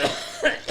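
A single close, loud cough with a short follow-up burst, like a person coughing into a podcast microphone.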